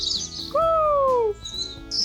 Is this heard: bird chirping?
yes